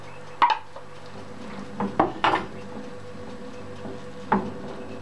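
Peas tipped into meat simmering in a pot bring a few sharp metallic clinks and knocks of a utensil against the pot, scattered over a quiet background with no speech.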